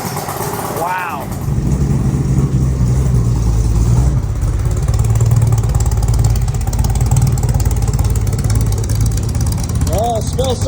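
Superformance GT40 MKII with a pushrod V8 rumbling steadily at close range, a deep continuous low-end drone that swells slightly mid-way, with brief chirps and background voices around it.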